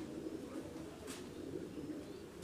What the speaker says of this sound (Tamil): இந்த புறாவோட பேர் சாக்சன் மாங்க்.